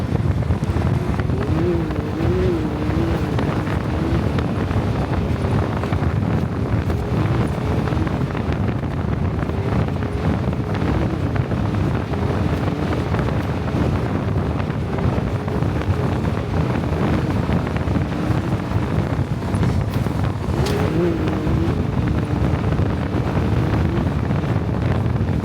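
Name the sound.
Can-Am Maverick R side-by-side driving slowly through whoops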